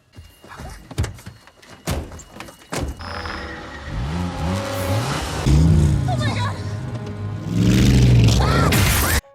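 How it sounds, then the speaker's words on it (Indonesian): A car starts up and drives off in a horror film scene, its engine rising into a steady revving drone after a few door thunks and knocks, with voices talking over it. "Ryan dan Maya pun berniat pergi dengan menggunakan mobil milik si pemilik kabin."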